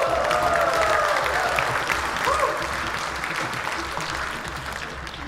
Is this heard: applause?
yes